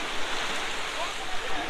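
Gentle sea waves wash at a beach on Neil Island in the Andaman Islands, a steady broad rushing surf with wind noise on the microphone.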